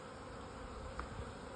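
Honey bees buzz around established hives during a requeening check, a faint, continuous droning hum with no talking.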